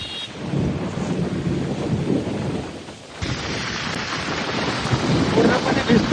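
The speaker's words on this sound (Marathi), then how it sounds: "आता पाऊस मस्त जोरात येतोय." Heavy monsoon rain pours down on a crowded road near Lonavala with low rolling thunder and gusts of wind buffeting the microphone, a loud continuous roar that dips briefly before surging back even stronger.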